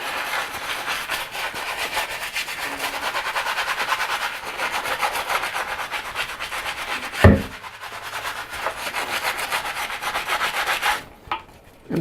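A heavy Batman prototype figure is scrubbed and sanded with water in steady, continuous rubbing strokes, close up. The scraping grit pauses briefly with a thump partway through and again near the end.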